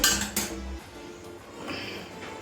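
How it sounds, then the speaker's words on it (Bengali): A metal kadai is set down on the stove with a sharp clank and a brief metallic rattle at the start, followed by quiet kitchen background. "এবারে কড়াইটা বসিয়ে দিচ্ছি"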